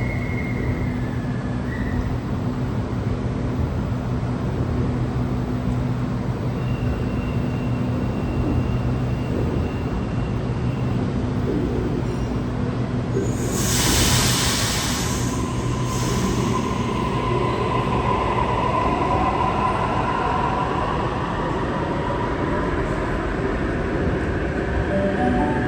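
A Sydney Trains B-set electric train pulls into an underground station platform with a long, loud rolling rumble and whine. A burst of hissing brake air comes midway, then the pitch glides down as the train slows.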